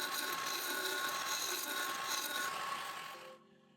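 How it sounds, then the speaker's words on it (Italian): A 13 mm gouge used with a very light hand hollows the inside of the lower part of a segmented Tasmanian pine vase on a lathe, giving a steady, close, dry rasping scrape that cuts off abruptly near the end. "Resta solo la conformazione dell'interno della parte inferiore usando una sgorbia da 13 e una mano molto leggera."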